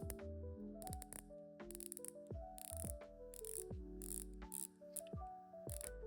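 Scalloped rotating bezel on a Watchdives dive watch being turned, a quick series of crisp close clicks in uneven bursts, some fast runs and some single ratchet steps, heard alone in a quiet room.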